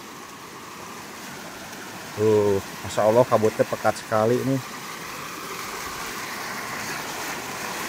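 A flooded irrigation channel swollen by rain rushes past beside a house in a steady, close wash of flowing water, with someone speaking for a couple of seconds in the middle.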